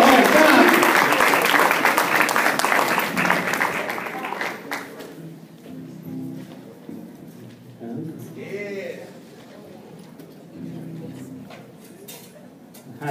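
Audience applause for a guitarist-singer at a live show, loud dense clapping that fades after about five seconds, followed by talking and a few scattered claps.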